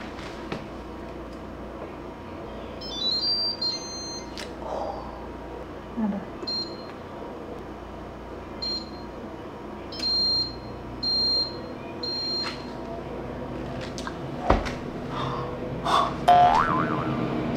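An air fryer's touchscreen control panel gives a series of short electronic beeps, sounding singly and in brief pairs at irregular intervals over a steady low background hum, with a few clicks and handling bumps near the end.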